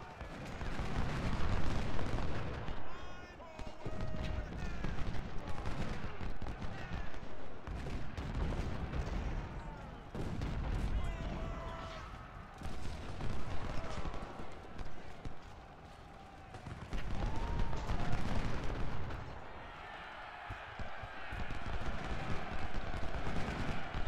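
Musket volleys and gunfire in the Civil War strategy game Ultimate General: Civil War, a dense, continuous battle din of rolling shots and booming artillery that swells and dips over the whole stretch.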